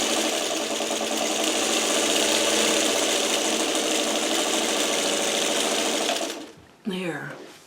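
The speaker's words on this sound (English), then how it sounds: "I've got a foot on my sewing machine where either side is a 1/4 inch." A sewing machine stitching fabric scraps with a 1/4 inch foot runs in a loud, fast, steady whir for about six seconds, then winds down and stops, followed by a brief voice.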